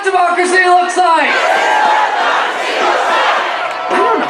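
Crowd of demonstrators at a street protest chanting in unison and cheering, loud massed voices with a rhythmic chant at the start giving way to a sustained roar.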